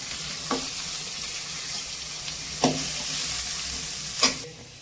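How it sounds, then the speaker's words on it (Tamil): Onions and curry leaves crackle as they fry in hot oil, giving a continuous close sizzle with three sharp knocks of a spoon against the pan spaced a couple of seconds apart, and no talking. "எண்ணெய் காய்ச்சி நம்ம வெங்காயம் போட்டுக்கலாம்."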